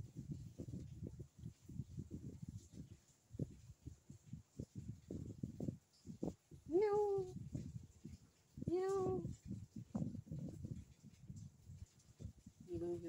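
A stray cat gives two clear drawn-out meows, close by, amid frequent talking from a woman who also makes cat-like calls, with light handling noises throughout.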